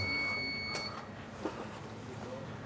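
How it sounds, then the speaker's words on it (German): A high-voltage insulation test device emits a steady high electronic beep at the start, which cuts off partway through. Room noise and a faint click follow. "So, machen wir den Piepser aus."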